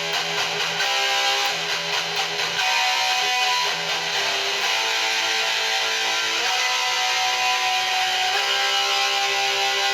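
Distorted electric guitar plays sustained, gritty notes and slides, loud and continuous with no talking.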